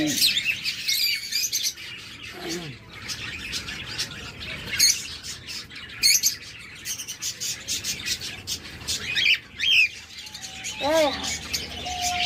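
Parrots, lovebirds and cockatiels in a bird shop, a busy mix of sharp squawks, chirps and rising calls from several birds nearby, with people talking underneath.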